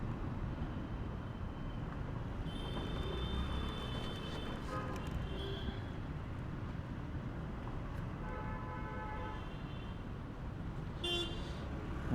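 Heavy traffic at a busy road intersection at Rajendra Chowk near the Doranda flyover in Ranchi, a constant engine rumble with repeated car horn toots and honks scattered through, moderately distant, without talking.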